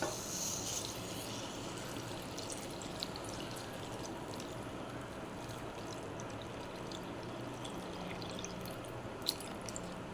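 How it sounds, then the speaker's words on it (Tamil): Tamarind water pouring steadily into a pot, a continuous watery splashing with a few brief clinks, no talking. "ஊற வச்ச இப்போ புளி தண்ணியை இப்போ நம்ம சேர்த்துக்கலாம்"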